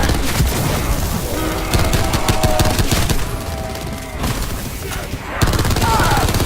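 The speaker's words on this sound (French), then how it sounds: "Comme un coup de fusil." Gunfire in Call of Duty Black Ops 4, with rapid automatic bursts and heavy booms over game sounds, loud and continuous, briefly dipping before resuming.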